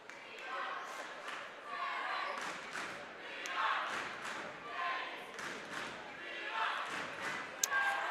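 Crowd noise fills a gym at a 1B district 5 basketball championship game, a steady din of many voices with scattered cheers and thumps, the murmur rising and falling throughout.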